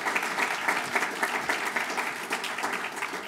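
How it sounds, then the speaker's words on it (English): Audience applause at a community talk on housing and participation, a steady patter of many hands clapping at moderate distance without speech. "Yeah, clap, because I think that's important."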